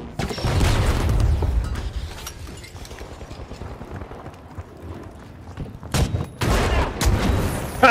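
Gunfire and explosions in the video game The Finals, with rapid shots and booming blasts up close, dense at first, easing off, then returning in sharp bursts.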